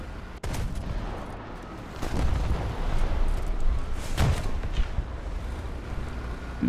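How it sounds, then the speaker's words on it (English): Gunfire and booming shots aimed at a Zsu-57-2 self-propelled anti-aircraft gun in War Thunder, a few sharp reports over steady battlefield rumble, with stronger blasts near the middle. "Someone tried to shoot me."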